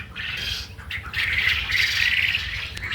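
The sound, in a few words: Japanese quail birds calling in a farm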